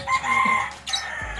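A champion gamecock rooster gives a short, close, hoarse cluck and crow that fades out after about a second.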